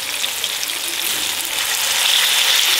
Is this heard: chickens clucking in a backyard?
no